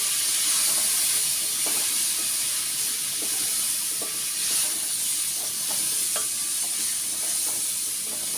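Crushed dry ginger, cumin, cardamom, cinnamon and cloves are stirred in a pan, a steady close sizzle and hiss with a series of soft scraping strokes scattered throughout, no voices.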